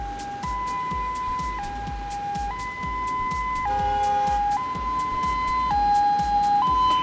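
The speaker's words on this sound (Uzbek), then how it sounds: "hozir bir minut tez yordam kelyapti" An ambulance siren sounds loud and close, with a steady two-tone wail alternating at an even rhythm, over passing road traffic.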